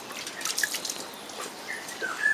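Water dripping and trickling out of coagulated rubber latex as it is pressed by hand in traditional rubber making; soft, close, irregular little drips and splashes, no voices.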